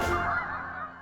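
Geese honking, a dense flock calling together in a continuous raucous chorus, loud and close throughout.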